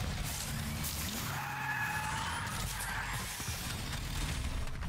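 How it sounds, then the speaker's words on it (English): Vehicles heard in a Fortnite match: a steady engine rumble with tyre skids and mechanical noise, continuous and fairly loud, with no talking. "you can sometimes hear more, hear cars coming further away"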